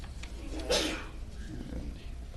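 A single sharp sneeze bursts out in a quiet public meeting room during a county commission session, brief and fairly close against low room hum.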